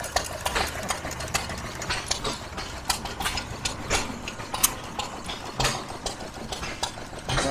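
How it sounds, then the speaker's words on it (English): An antique International gas engine of about 2 to 5 horsepower runs with a cooling fan at a farm power show, giving a steady loud mechanical clatter with busy outdoor background noise. "Another international engine. About 2 to 5 horse."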